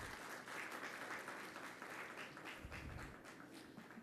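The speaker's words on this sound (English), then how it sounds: "Please join me in welcoming with a round of applause our chair, Dr. L.B. Singhal, Development Commissioner," Applause from a conference audience at an economic zones investment and trade expo, a continuous, fairly faint and even patter of many hands clapping with no voices over it.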